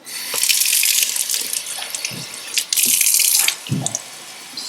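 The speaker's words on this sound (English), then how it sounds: "So we'll give these ones a quick rinse" Tap water runs and splashes while bean sprouts are rinsed in a mason jar, a steady gushing flow with brief pauses and a couple of sloshing surges as the jar is swirled and drained.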